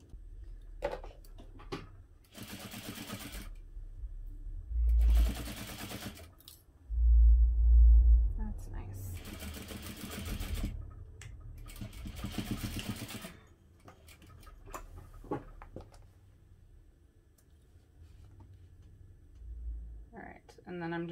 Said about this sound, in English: just bring that over to your sewing machine and edge stitch just as close to the edge as you can get